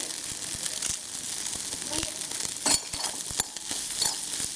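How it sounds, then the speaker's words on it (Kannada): Ginger, pepper, cumin and curry leaves frying in oil, a steady close sizzle with crackling pops and a few utensil scrapes, no speech. "ಶುಂಠಿ ಘಮ ಬರುವವರೆಗೆ ಹುರಿರಿ"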